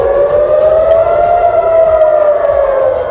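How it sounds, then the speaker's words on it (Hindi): A civil defense warning siren sounding over Israeli areas bordering Gaza, one loud sustained wailing tone that rises slightly and then eases back, steady and continuous with no voices. "गाजा से लगे इजरायल के इलाकों में चेतावनी के सायरन बजने लगे"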